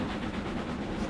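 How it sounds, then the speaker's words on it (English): A train rumbling across a bridge on the Riviera Line, a steady low rolling roar heard from some distance, faint and continuous with no voices. "Trains on the bridge."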